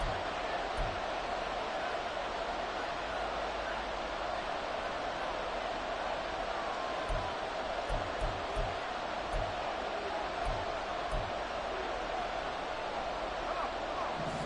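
Stadium crowd noise in a football video game: a steady, distant roar and murmur of a large crowd runs throughout at moderate level, with no clear talk over it.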